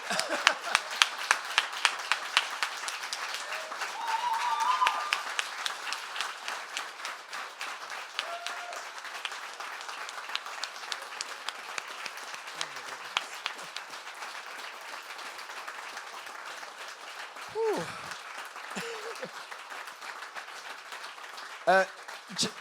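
Audience applause after a poetry reading, dense clapping at first that thins out into scattered claps with murmuring voices and a few distant calls near the end.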